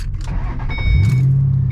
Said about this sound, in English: We're taking my Mustang and Louis' Mustang, and we got Derek in his